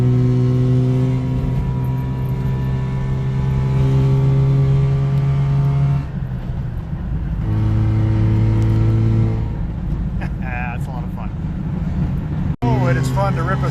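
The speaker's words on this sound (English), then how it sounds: "I'm going to rip it up this hill a little bit." Subaru 360 two-stroke microcar revving hard as it climbs a hill through fall colors, a loud, steady buzzing drone with a brief dip between pulls and a sharp click near the end.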